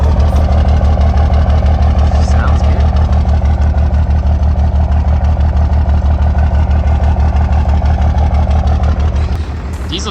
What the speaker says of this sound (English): Idle's a lot better now.